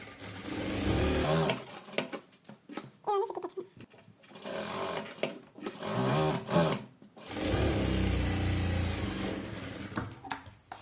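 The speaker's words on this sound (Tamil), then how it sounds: "இப்போ வந்து நம்ம எக்ஸ்ட்ரா நம்ம அடுத்த பீஸ்களை அமைக்கி விட்டு ஒரு தையல் போடுறேன்." Sewing machine stitching blouse sleeve pieces together, running in loud close bursts of steady whirring with short pauses between seams.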